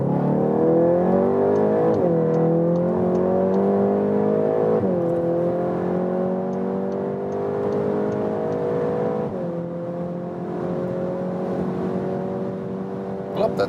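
VW Golf GTI Clubsport, a front-wheel-drive hot hatch, accelerating hard from 30 to 200 km/h, engine note rising steadily through several gear changes with brief dips between, heard from inside the cabin.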